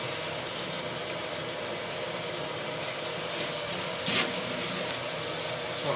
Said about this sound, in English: Next up, we'll just rinse the plate off a little bit.